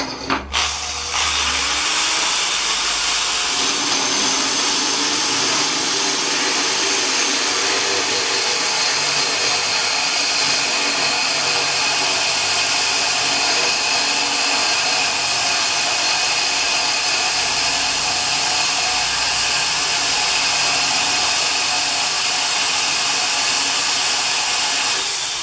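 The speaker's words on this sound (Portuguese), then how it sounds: "vou usar a furadeira com uma broquinha própria para porcelanato" A power drill fitted with a bit made for porcelain tile bores into porcelain tile for a double toilet-paper niche, giving a steady, loud, high-pitched grinding whine that runs unbroken for about 25 seconds with no talk.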